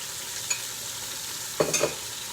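A bacon cheddar burger frying in olive oil in a cast iron skillet, a steady soft sizzle with a couple of brief scraping knocks near the end, close and moderately quiet.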